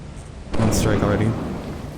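Lightning strikes a ship in a video game, setting off a sudden loud crack that swells into rumbling thunder over a steady backdrop of rain and wind.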